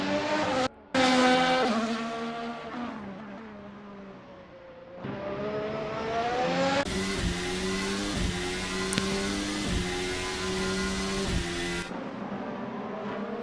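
Onboard audio of a touring race car in a sim-racing league championship race: the engine drops in pitch and then rises repeatedly as it revs through gear changes, loud and close, with no voices heard.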